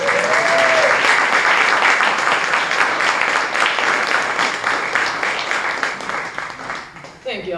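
An audience applauds loudly and steadily for Clementine Ryder, dense clapping that holds strong and thins out toward the end, with a brief voice near the start.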